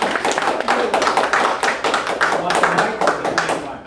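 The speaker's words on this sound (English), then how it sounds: "Let's give a round of applause for our guest speaker today." Audience applause greets a guest speaker at a business talk on electronic payment partners, a steady wash of many hands clapping close and loud for about four seconds with no talk over it.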